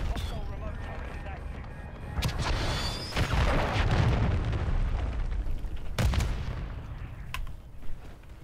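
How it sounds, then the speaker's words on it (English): Enemy forces fire a cruise missile in Assassin's Creed Valhalla, setting off a series of heavy booms and rumbling blasts with sharp cracks near the start and the end, against a dense, roaring backdrop. "The hostiles launched a cruise missile."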